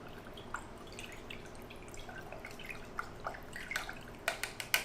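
Small drops of Cal-Mag nutrient solution falling into hydroponic water, a sparse series of soft close drips that grow more frequent toward the end, with no talking.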